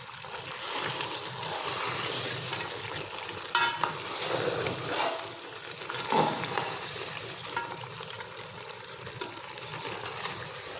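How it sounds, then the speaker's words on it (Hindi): A pot of chicken gravy with yogurt is stirred, giving scraping and swishing sounds over a soft, continuous sizzle, with occasional clinks of the spoon. "अच्छी तरह से इसको मज़ीद मिक्स कर लेंगे।"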